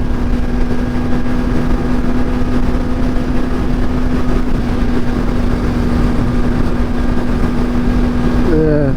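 A 16,000 RPM superbike's engine holds a steady, loud drone while being ridden, running at a constant pitch with wind rush throughout.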